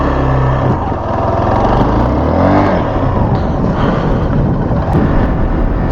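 A Hero Xpulse 200 motorcycle engine drones loudly and close on a muddy dirt road between Istanbul and Şile, with a steady rumbling note that rises and shifts as the rider works the throttle.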